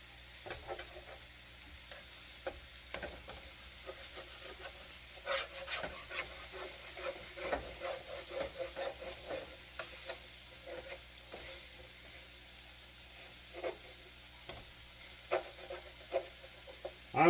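Sausage frying in a pan for a pizza ring, with a steady soft sizzle and irregular scraping stir clicks and knocks throughout, gradually getting busier, close and moderately loud with no talking.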